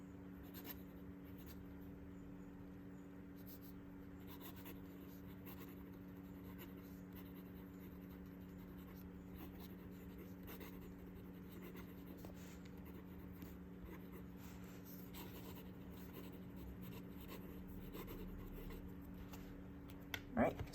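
A Lamy fountain pen nib scratches steadily across paper with slight feedback, faint and continuous against a quiet room with a low background hum.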